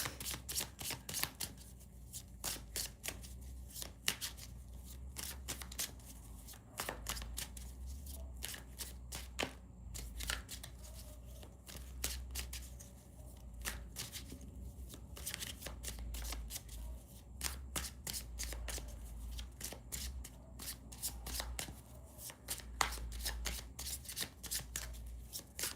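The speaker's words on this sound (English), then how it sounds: "I've got to give them a good shuffle just because I break them out of the deck" Tarot cards are shuffled continuously by hand, a quiet, steady run of crisp riffling flicks and soft slaps lasting throughout.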